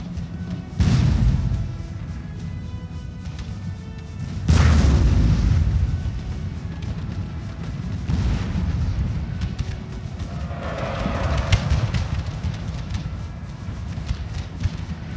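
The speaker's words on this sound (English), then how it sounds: "Still got cannons operating up here on top of the castle." Cannon artillery fires from atop a fort during a France versus Russia battle in Venice in a video game, two loud booms a few seconds apart followed by rumbling, distant battle noise.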